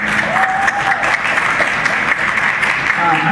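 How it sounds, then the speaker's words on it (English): Audience at a public advocates forum in a college hall applauding for a man, steady loud clapping throughout with a faint whistle-like tone over it. "a round of applause for Mr. Ray Cameron over there."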